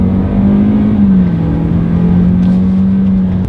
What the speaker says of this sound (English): let's do a quick little acceleration here in the UX 200